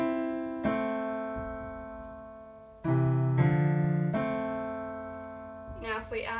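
Piano left-hand part of a theme, sustained two-note chords struck one after another in a slow, steady sequence, close and clear, with a brief voice starting at the end.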